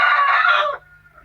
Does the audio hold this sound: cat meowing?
no